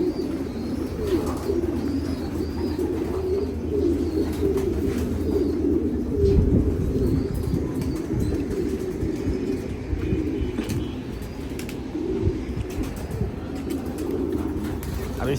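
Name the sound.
pigeons cooing while set out in the sun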